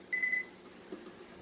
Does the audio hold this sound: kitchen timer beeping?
yes